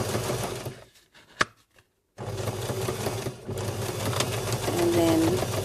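A sewing machine stitches across paper card in quick mechanical bursts, a close rattling whir that pauses briefly and then resumes steadily, with a voice talking over parts of it.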